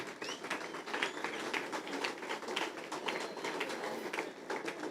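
Applause at a cheque distribution ceremony for Form 2 award beneficiaries, many hands clapping in a steady, moderately faint patter from a gathered audience.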